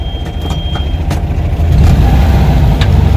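A vehicle being test driven in reverse gear on a 002 transmission, the engine rumbling low and loud up close, swelling steadily as it pulls backward.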